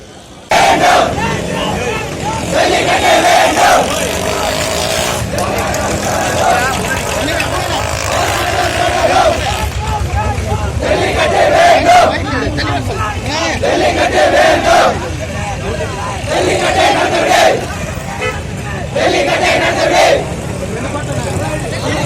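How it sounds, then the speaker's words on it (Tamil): Jallikattu protesters chant slogans in loud, rhythmic crowd shouts that repeat in bursts every few seconds, close and forceful over a steady outdoor crowd murmur. "அவங்க முன்னாடி கரகோஷங்கள் எழுப்புனாங்க நம்ம சகோதரர்கள்"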